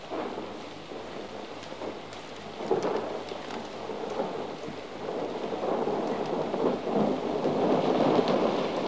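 Steady rain falls with low rumbles of thunder rolling through, the downpour building slightly louder toward the end, with no voices.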